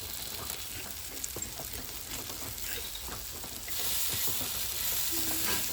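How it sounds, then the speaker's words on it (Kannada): Sardines (bhutai) frying in a pan in a home kitchen, a steady soft sizzle and crackle with occasional light stirring clicks, heard close but fairly quiet, with no talk. "ಬೂತಾಯಿ ಫ್ರೈ ಎಳ್ಳು ಬೂತಾಯಿ ಫ್ರೈ ಆಗ್ತಾ ಉಂಟು ಒಳ್ಳೆ ಫ್ರೈ ಆಗುತ್ತೆ ನೋಡಿ"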